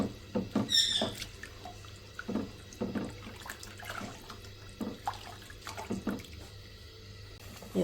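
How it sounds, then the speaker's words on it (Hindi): Sooji halwa coming to a boil in a pan, soft bubbling and plopping pops scattered at an irregular pace, close but quiet, with no voice. "ये देखें जी, हलवे में उबाल आना शुरू हो गया"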